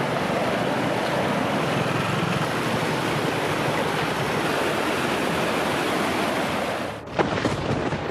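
Floodwater of the Gauri river in Sarve, Puttur, Dakshina Kannada, roaring as it overflows in heavy rain, a loud steady broadband rush throughout with a brief dip and splashy disturbance near the end.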